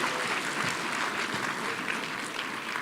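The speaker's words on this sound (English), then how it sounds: "we can give a round of applause." A roomful of guests at an awards gala dinner applauding, a steady wash of clapping throughout, fairly loud and even.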